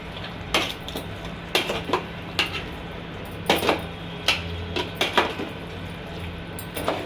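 Chicken being stirred into spice masala in a pan for a Sunday chicken gravy, with a run of sharp metallic spoon scrapes and clinks against the pan, fairly close, over a low steady background hum.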